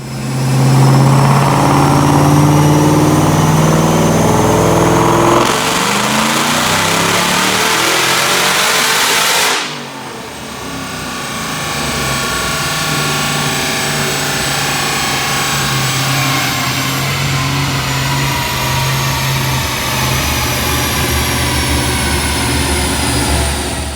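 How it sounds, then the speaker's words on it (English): A Whipple-supercharged 2003 Ford Cobra making over 800 rear-wheel horsepower, with 206,000 miles, roars through a dyno pull, engine note climbing loudly with supercharger whine, dipping briefly at a shift, then building again in a sustained, close, powerful howl. "Check out this dyno pull."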